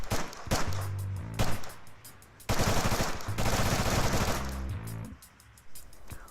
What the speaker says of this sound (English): Obviously submachine gun, 9mm, 30 round max.